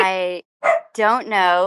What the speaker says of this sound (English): Was that a dog? That's my dog.